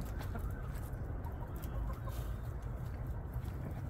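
Low, busy clucking from a group of chickens close by as they eat pomegranates, over a constant dense background murmur.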